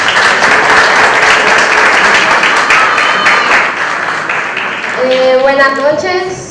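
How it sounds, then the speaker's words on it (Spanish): Guests at a quinceañera party clapping loudly in a dense, sustained burst that gradually fades, as a voice rises over the end of the applause. "Muy bien, fuerte aplauso."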